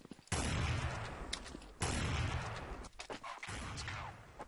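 Gunfire in the shooter Counter-Strike: Source during a sniper match, a loud sustained burst of shots followed by a short gap, then a second long burst and a few scattered closer shots.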